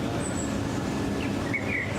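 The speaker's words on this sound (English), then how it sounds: "So that's actually a blackbird." A blackbird sings from a tree outdoors, its high, fluty whistled phrases coming faintly and at a distance over a steady, noisy background hum.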